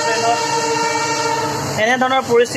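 A passenger train runs with a loud, sustained horn tone through the first part, then rumbling carriage noise while someone talks nearby.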